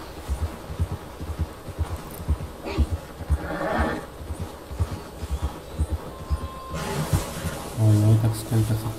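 A horse whinnies near the end of a stretch in the video game Red Dead Redemption 2, heard over hoofbeats and ambient game sound, with someone talking throughout.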